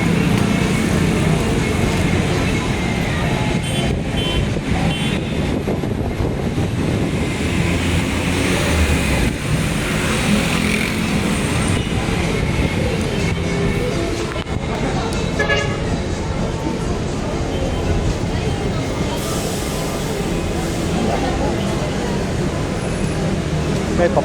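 Steady road traffic at Pasay Rotonda in Manila, a dense continuous roar of buses and cars with occasional horn toots, heard up close for the whole stretch, with a voice talking over it at times.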